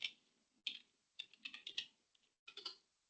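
Computer keyboard typing a password: clusters of quick, close, crisp key clicks in several short bursts separated by brief pauses, alone in quiet surroundings.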